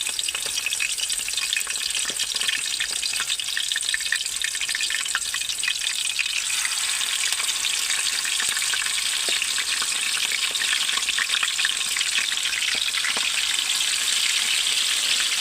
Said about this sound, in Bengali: প্রত্যেকটা মাছে নুন হলুদ লাগিয়ে বা তেলে ছেড়ে দিচ্ছি